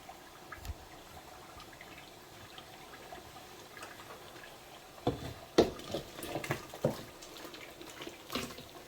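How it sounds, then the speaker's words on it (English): Meat and its water poured into a pot of Nigerian stew, a run of close liquid splashes and pours in the second half after quieter kitchen background. "Pour all the meat with the water inside the stew."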